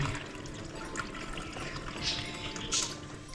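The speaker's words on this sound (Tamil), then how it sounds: "ரெண்டு கிளாஸ் வாட்டரை பேனில் ஊற்றிருப்போம்" Two glasses of water poured into a cooking pan, a continuous trickling, splashing pour at moderate loudness running steadily for a few seconds, with no talk over it.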